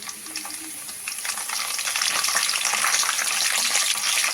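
Cumin seeds and curry leaves frying in about four tablespoons of hot oil give a continuous bright crackling sizzle that swells louder after the first second and holds steady, close and without speech.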